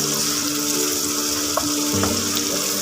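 Onions and curry leaves fry in a pan while a ladle stirs them, a steady loud sizzle with a few faint scrapes and clinks of the ladle over it.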